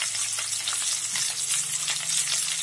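Potatoes and carrots fry steadily in a salted pan over a raised gas flame, a dense continuous sizzle with faint stirring scrapes throughout, close and loud, no talking.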